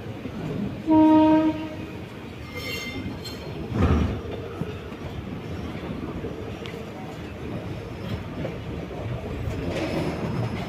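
A passenger train, the Auroville Express from Puducherry to Chennai Egmore, rumbles along with a short horn blast near the start, then a clattering rush of wheels continuing steadily with some voices faintly underneath.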